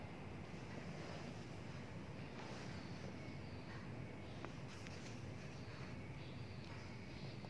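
Maribaya waterfall near Lembang, Bandung, rushing as a constant broadband roar of falling water mixed with wind buffeting, steady and fairly distant with no talking.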